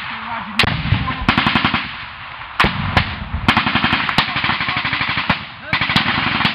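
Bursts of automatic gunfire and single shots crack out in a firefight in Afghanistan, loud and close, in repeated rapid strings separated by brief pauses, with radio chatter faintly underneath.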